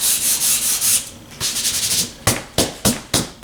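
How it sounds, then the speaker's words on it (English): Sandpaper rubbed lightly over a worn leather couch, a run of quick scratchy strokes followed by a few separate sharp swipes, close and crisp with no talk. "take the sandpaper that comes in your kit, okay, and lightly sand it down just like this"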